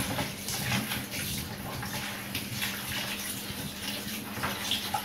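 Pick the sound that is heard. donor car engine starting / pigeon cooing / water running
water running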